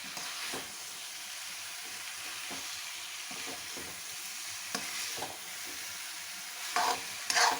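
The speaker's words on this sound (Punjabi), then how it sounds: "ਇੱਕ ਤੋਂ 2 ਮਿੰਟ ਲਈ ਮਸਾਲੇ ਵਿੱਚ ਗੋਭੀ ਨੂੰ ਚੰਗੀ ਤਰ੍ਹਾਂ ਭੁੰਨ ਲਾਂਗੇ" Fried potato and cauliflower for dhaba-style aloo gobi are stirred through spices in a hot pan, giving a steady low sizzle with soft scraping strokes and a couple of louder clanks near the end.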